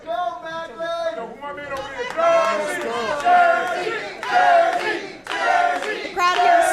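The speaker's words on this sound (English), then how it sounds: "The crowd here is starting to get behind Macklin." Wrestling crowd at a GSW independent show in New Jersey, a dense mass of voices chanting rhythmically and cheering in steady surges, loud and close throughout with no clear gaps.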